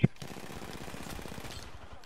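A gun fires in rapid bursts in a video game, with a sharp opening crack followed by a steady rattling stream of shots beneath a speaking voice.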